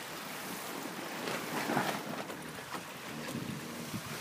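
Sailboat under spinnaker moving at about seven knots near Point Roberts, with water rushing and splashing along the hull under steady wind buffeting the microphone, no voices.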